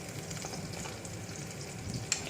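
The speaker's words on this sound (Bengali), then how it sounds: "তো পেঁয়াজগুলো একটু ভাজা ভাজা হয়ে গেছে" Chopped onions fry in a pan for a breakfast poha, a soft, steady sizzle with a faint crackle and a small clink near the end.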